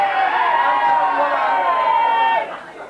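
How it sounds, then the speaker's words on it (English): A Clare hurling crowd lets out a loud, sustained collective groan after John Leahy's goal chance is saved by Davy Fitzgerald; the dense roar holds steady before dropping away near the end. "You can hear the Clare crowd moaning as John Leahy got that ball"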